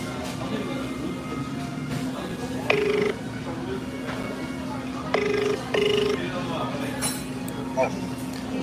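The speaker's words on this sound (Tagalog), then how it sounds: "Tawagan ko yung tauhan ko, si Bonbon." An outgoing call rings on a telephone, giving a few clear ringback tones in short bursts over a steady hum and restaurant background noise, with talk and clinks around it.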